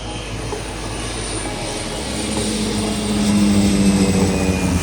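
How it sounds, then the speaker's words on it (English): Low-flying airplane roaring over Maho Beach, a loud continuous engine drone that swells steadily as it passes close overhead, with no talk. "airplanes flying right over the beach"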